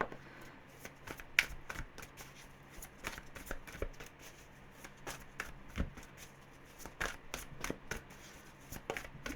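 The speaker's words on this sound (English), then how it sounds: "This deck is so awkward to shuffle." A tarot deck is shuffled by hand in repeated quick riffles, crisp papery flicks and soft taps coming in a brisk uneven rhythm, close and fairly quiet.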